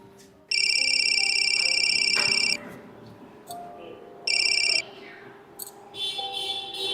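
A mobile phone ringtone rings loudly indoors in two bursts, a long stretch and then a shorter one, with some household background noise between and after.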